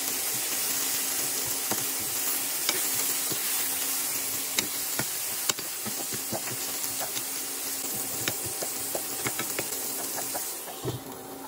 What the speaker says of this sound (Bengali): এরপর একটু নেড়েচেড়ে দিয়ে ঘুমুরো বা ঝিঁঝি পোকাগুলো দিয়ে দিলাম।